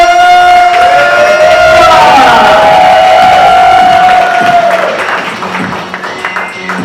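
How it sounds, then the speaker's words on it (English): A comedy club audience greets a comedian with loud, sustained applause, cheers and whoops that fade toward the end. "Round of applause for Marissa."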